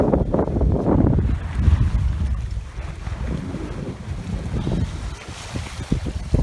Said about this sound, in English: we've got the sails up, we've got 12 knots of wind, close reaching